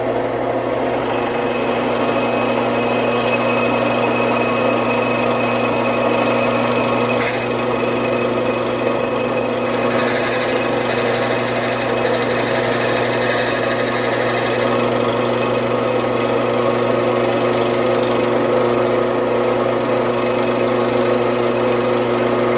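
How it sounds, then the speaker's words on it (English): Drill press motor hums steadily while boring an alignment hole in a wooden bowl blank, a loud continuous drone with a faint whine that barely changes across the whole stretch. "turn on the drill press and drill the alignment hole"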